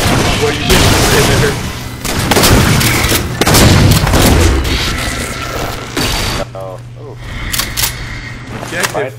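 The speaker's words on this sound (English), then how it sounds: "I think this dude with the binary rifle popped me" Gunfire from a binary rifle in the Halo 4 video game, with loud repeated shots and mechanical clatter in a dense mix, and people talking over the action.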